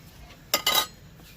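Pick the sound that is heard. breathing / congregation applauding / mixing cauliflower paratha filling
mixing cauliflower paratha filling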